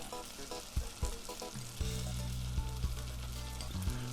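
Half a cup of diced onions dropped into a pan on medium heat, a bright steady sizzle and crackle, with a few clinks and knocks early on before the frying settles into a dense, constant hiss.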